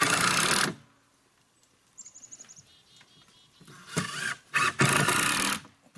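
Screws being driven at a sharp angle into the wood of a trailer side. Loud bursts from a power driver start and stop, with quieter gaps between them and brief faint chirps in the background.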